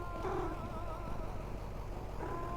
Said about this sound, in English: I love the cat noises so much.